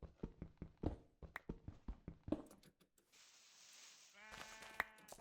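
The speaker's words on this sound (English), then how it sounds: "I hear sheep." Footstep taps on blocky Minecraft terrain come first, then a single nasal sheep bleat near the end, close and moderately loud.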